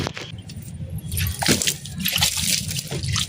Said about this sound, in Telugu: నేను కొన్ని వాటర్ తీసుకొచ్చి వాటర్ పోసేస్తాను